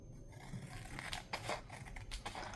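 Scissors snip through paper in a quick series of crisp cuts for a junk journal collage, close by, with faint rustling between the snips.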